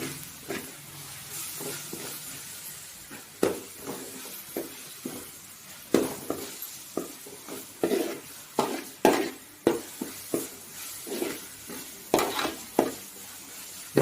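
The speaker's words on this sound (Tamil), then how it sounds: "இஞ்சி பூண்டு நல்லா வதங்கிடுச்சு" Ginger-garlic paste fries in a pan for a vadacurry, making a continuous soft sizzle broken by repeated scraping stirs and sharp clinks of a spoon against the pan, all close up.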